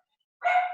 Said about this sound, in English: Sorry, that's my dog's going crazy.